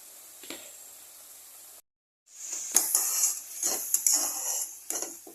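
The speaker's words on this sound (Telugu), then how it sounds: "మొత్తం మిక్స్ చేసుకోవాలి." A spoon stirs curd and salt together in a cooking pan, giving scraping metallic clinks and soft squishes in an irregular rhythm, close up over faint background hiss, without any voices.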